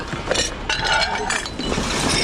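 Small discarded glass dishes and saucers clink against each other while being sorted in a dump, with a possible crack of one breaking; continuous rattling and chinking runs throughout, mixed with faint talk.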